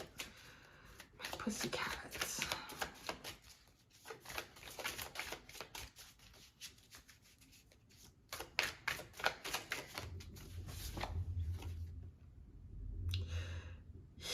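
Tarot cards being shuffled: papery riffling and rapid card flicks come in bursts, quiet and close, with a person speaking between and over the shuffling.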